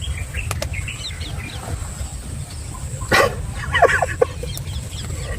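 Chickens beat their wings in short bursts as they fly up outdoors, with rustling flaps and a few clucks and squawks over a low background.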